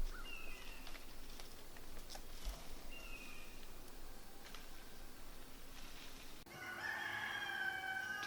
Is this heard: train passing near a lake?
no